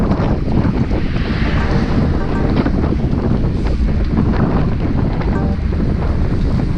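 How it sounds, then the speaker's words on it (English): Steady, roaring wind buffets a cyclist riding in a group road ride, a continuous rumbling gust noise that stays loud and even throughout with no voices. "that wind is just hitting"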